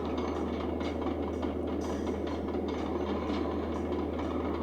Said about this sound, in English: Something about just robbing the moving train here of the clockwork part just feels really awesome.